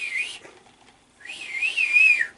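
A person whistles, imitating a movie character's whistle: a short rising note, a pause, then a longer wavering, sliding tone, loud and close, alone with no talk.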